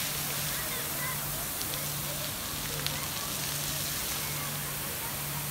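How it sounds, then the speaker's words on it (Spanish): Fountain at the Hito Argentino spraying a fine drizzle-like mist, a constant hissing wash of falling water heard evenly throughout, with a faint steady hum beneath. "Hay modo spray, rocío, así, tipo llovizna, como la fuente, y chorros."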